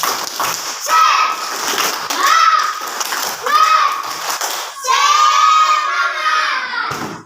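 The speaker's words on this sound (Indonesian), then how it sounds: "Kita tepuk semangat dulu, biar kita lebih semangat." Schoolchildren in a class chant and shout together in a spirit clap routine, bursts of loud group voices and rhythmic claps repeating in waves, with a longer sustained shout near the end.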